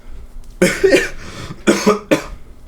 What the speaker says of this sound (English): What type of show are we running today that you're just coughing?